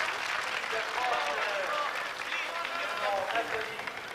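A crowd applauds the winning team of a track cycling team pursuit at the 1980 Paris-Roubaix event, with sustained, roomy clapping and a voice talking over it.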